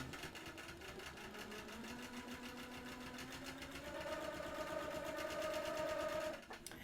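Sewing machine stitching a quilt in red thread along a ditch line, a fast, steady, quiet mechanical whirring that holds for about six seconds before stopping, with no talking.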